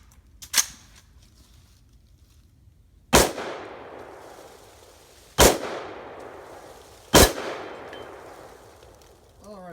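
Four sharp gunshots, spaced a few seconds apart, are fired outdoors at an AR500 steel target plate. The first is quieter and each crack rings out briefly before fading.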